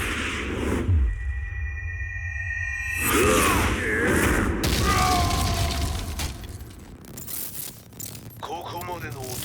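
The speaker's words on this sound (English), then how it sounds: "Explosion confirmed at the Mishima dojo." An explosion at the Mishima dojo in Tekken 7, a booming blast with shattering debris and sweeping whooshes that fill the scene with dense, loud layered effects and no speech.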